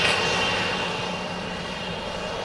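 A Turkish Airlines Airbus A380 taxiing out at Manchester Airport gives a steady, loud jet-engine roar with a broad rushing hiss that holds nearly constant throughout, fading only slightly toward the end, with no voices.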